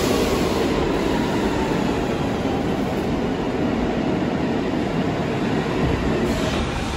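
A New York City subway train rumbles along loudly and steadily, with a constant roar and faint rattling of the cars and no voices.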